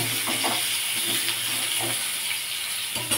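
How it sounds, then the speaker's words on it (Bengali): Pieces of arum root fry lightly in oil in a pan, making a soft, even hiss with faint crackles and a few sharper bursts near the end. "এবার কচুরমুখিটাকেও হালকা করে ভেজে নেব"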